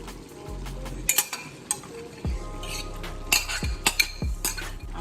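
Canned ackee and smoked herring stirred in a pan with a metal utensil, giving repeated scraping and clinking strokes over a faint sizzle, close and fairly quiet.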